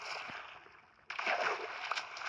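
Water splashing in the Minecraft video game, a soft watery wash that jumps louder about halfway through and then keeps sloshing steadily, with no talk over it.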